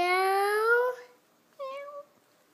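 A cat meows twice, a longer rising meow followed after a short pause by a shorter one, close and clear.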